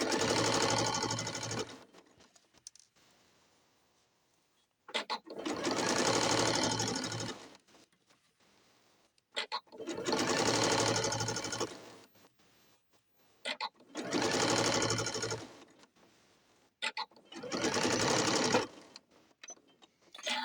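Five separate runs of a sewing machine stitching leggings fabric, each a couple of seconds of loud, close motor whir and needle chatter, separated by near silence as the work is repositioned; no voices.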